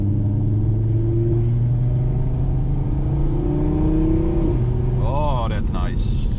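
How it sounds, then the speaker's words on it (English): A 612 hp MTM-tuned Audi TT RS with a manual gearbox, in dynamic mode, accelerates hard from inside the cabin with the windows open: a steady, loud rising engine drone climbs through the gears, with a shift and a brief burble near the end. "let's open the windows a bit for that lovely sound and put it in dynamic mode"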